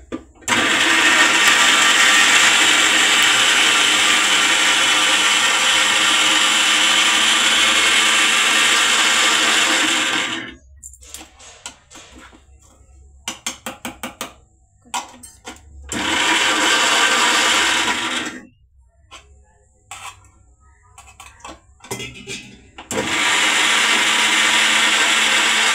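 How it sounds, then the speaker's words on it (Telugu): A kitchen mixer grinder (mixie) runs loud and steady for about ten seconds, stops amid rattling and clatter, restarts for several more seconds, pauses again with handling noise, then whirs on once more. "మిక్సీ పట్టేసుకుందాం"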